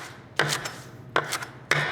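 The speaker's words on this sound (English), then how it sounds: "Take some of this, then I'm going to chop it up a little bit." Knife chopping food on a cutting board while preparing a lentil smoothie, three crisp separate chops spaced evenly and heard up close, with no talking.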